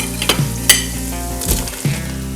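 Sliced mushrooms and thyme sizzling in a soup pot for cream of mushroom soup, a loud, close, continuous frying hiss with a few light clinks and stirring scrapes, no talking.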